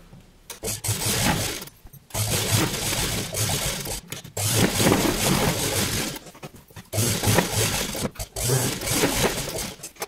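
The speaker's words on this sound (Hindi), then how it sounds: "अब हम यहाँ पर भी सिलाई लगा लेंगे" A sewing machine stitches fabric for a ball gown in several long whirring runs of rapid needle chatter, each lasting about two seconds, separated by short pauses; close and loud, with no talking.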